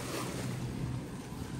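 Near-constant wash of wind, waves and boat engine as a small outrigger boat pulls in at Crystal Cove in Boracay, broadband and loud throughout with no voices.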